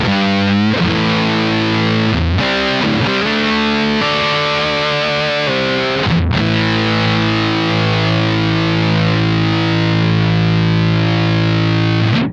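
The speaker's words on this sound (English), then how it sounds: "I thought it was appropriate to follow Fuzz with Fuzz, and this is the Kemper's Fuzz" Electric guitar played through a Kemper amp fuzz preset, loud and saturated, with chords ringing thick and buzzy, a few sharp restrikes and a long sustained final chord cut off abruptly.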